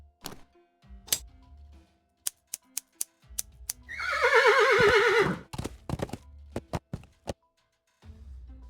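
A horse in the adventure game Willy Morgan and the Curse of Bone Town lets out one loud, wavering whinny lasting just over a second, set among sharp clicks and knocks from the game before and after it.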